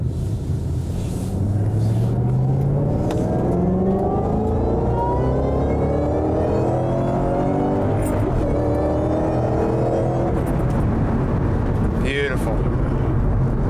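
A 2011 Ford Shelby GT500 pulls hard in second gear, its engine note climbing steadily in pitch over several seconds, then dropping after a shift and rising again, loud and continuous from inside the car.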